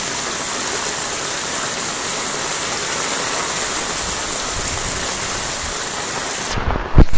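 Floodwater pouring over and around a temple gate at Gupt Kashi during river flooding, a loud, steady broadband roar like a waterfall, continuous and close with no voices, ending in a short burst of louder noise.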